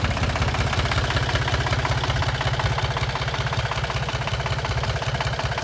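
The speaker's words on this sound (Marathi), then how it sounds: "आता फर्स्ट टाइम ट्रॅक्टर चालवला एवढ्या वरच्या आणि तो पण एवढा ऑफ रोड" A tractor engine runs loudly and steadily while the tractor is driven off-road through farm fields, a close, constant low rumble with a fast, even throb.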